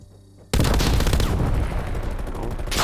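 An MG 82 light machine gun in Call of Duty Cold War starts firing abruptly and keeps up a loud, sustained automatic burst for over two seconds, with rapid evenly spaced rounds.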